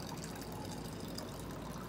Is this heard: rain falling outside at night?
no